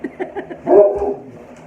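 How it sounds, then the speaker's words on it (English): A dog barks indoors, giving a few quick, light yips followed by one louder, fuller bark, close by. "Ada, if you're going to bark, take it outside"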